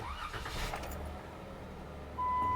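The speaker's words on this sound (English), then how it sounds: "Start engine." A Jeep Wrangler's engine cranks and catches, a short starter whir followed by the motor settling into a steady idle, close by, with a brief rise in loudness near the end.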